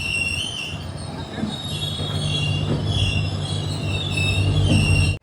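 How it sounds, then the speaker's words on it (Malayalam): A passenger train rolls into Yesvantpur railway station, its wheels squealing in a steady high-pitched whine over a low rumble, close and continuous with no voices. "7:13 ട്രെയിൻ ഇതാ യശ്വന്ത്പൂർ റെയിൽവേ സ്റ്റേഷനിലേക്ക് എത്തുകയാണ്"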